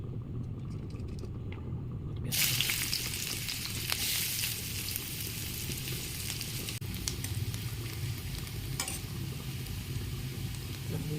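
Potatoes and poi leaves drop into hot oil in a pan, setting off a loud, steady sizzle that starts abruptly and keeps crackling evenly close by, with a low background rumble underneath.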